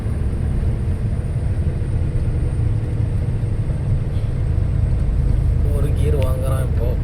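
A heavy Leyland truck's diesel engine grinds steadily uphill in a high gear, giving a constant loud low rumble throughout with road noise, rising slightly toward the end.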